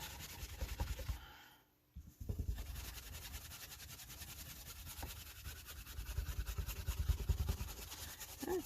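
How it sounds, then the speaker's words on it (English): Something is scrubbed hard for a handmade anniversary card, giving close, rhythmic rubbing and scratching strokes with a brief pause partway through and no talking. "I'm going to really scrub these"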